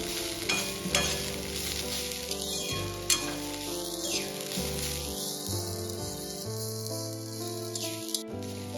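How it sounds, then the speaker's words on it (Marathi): Grated sweet potato fries in hot ghee with a steady, close sizzle, lightly stirred, while soft music plays underneath. "फक्त एक मिनिटच परतून घेणार आहोत आपण हा कीस तुपामध्ये"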